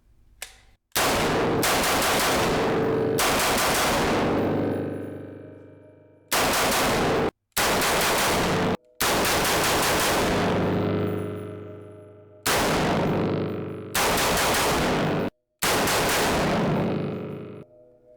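Tommybuilt Tactical XM8 rifle firing its first shots: several loud, close bursts of rapid automatic fire separated by short pauses, with each burst ringing out briefly afterward and no voices.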